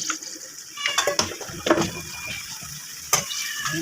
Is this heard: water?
yes